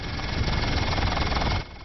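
A Midwest Medical Transport helicopter in flight over tornado damage gives a steady, close engine and rotor drone that drops suddenly near the end, with no talk.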